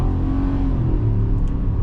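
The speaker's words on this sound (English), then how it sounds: "But one more acceleration." A Ford F-150 Lobo V8 pickup accelerating, a loud, steady low engine drone and rumble heard from inside the cab, continuous with no talking.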